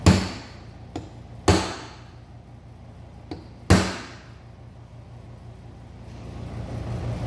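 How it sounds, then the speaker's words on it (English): A hammer strikes a punch to pin back metal tabs on a 2002–2009 Dodge Ram power seat motor, giving five sharp metallic taps at uneven intervals, two strong and three lighter, close and ringing briefly over a low hum. "Use a hammer and punch"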